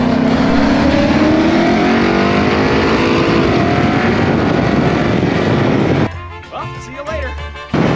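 A 2020 Ford Mustang GT in a roadside race near the Mexico border, a loud sustained engine roar with a rising pitch sweep. It cuts off abruptly near the end, where brief speech follows.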